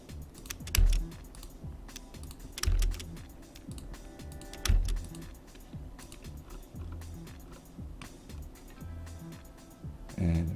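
AutoCAD commands go in on a computer keyboard as quiet, close keystrokes come in bursts, with a few heavier thumps spread through the run.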